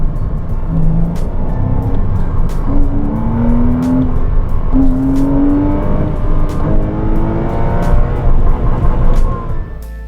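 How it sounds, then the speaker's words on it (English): A Porsche Cayman 987 flat-six engine revs hard, pitch climbing in repeated sweeps toward the limiter, loud and close with a raspy induction howl. "The flat 6 motor lacks ultimate grunt but is exceptional when it comes to induction noise."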